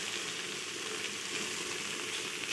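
Goat liver frying with spices in a pan, a steady soft sizzle throughout with faint stirring, no talk.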